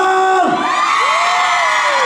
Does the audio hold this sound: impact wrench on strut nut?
no